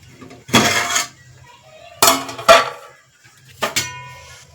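A pot of vegetable pulao is uncovered on a kitchen stove, giving three loud separate bursts of metallic clanking and scraping from lid and utensils against the pot, with quiet gaps between them.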